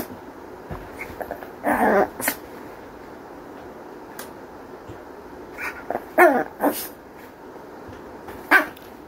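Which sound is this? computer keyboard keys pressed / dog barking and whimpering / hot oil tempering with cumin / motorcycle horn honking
dog barking and whimpering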